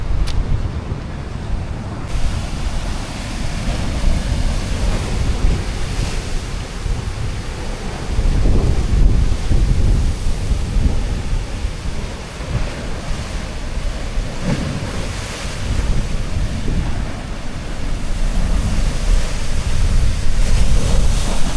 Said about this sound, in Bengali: দেখা যেতেছে আরো বড় ঢেউ